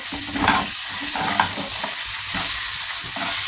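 Onion masala for a fish gravy sautés in a pan, a steady loud sizzle and hiss with repeated scraping stir strokes, close up and without speech.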